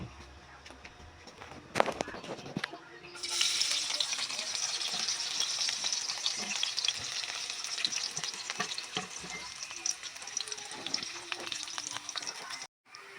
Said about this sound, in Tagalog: mainit na po yung mantika. Kaya ilalagay na natin yung sibuyas dito sa palayok